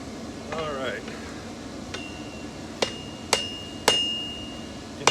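Steel struck with a hammer while a lid lifter is forged, giving four or five sharp, ringing metallic blows spaced about a second apart; someone talks briefly before the strikes begin.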